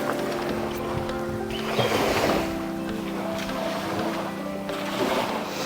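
Waves washing onto a beach on Koh Chang, a broad steady surf wash with gentle swells, mixed with wind buffeting the microphone, heard outdoors with no talk.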